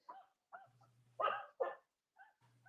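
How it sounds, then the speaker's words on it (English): Dogs nearby at a home with many dogs give short, intermittent barks and yips separated by silence, fairly quiet with one louder pair of barks in the middle. "I have 15 dogs here"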